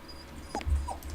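A puppy in the Sherlock Holmes vs. Jack the Ripper video game gives two short, faint whimpers over a low background rumble.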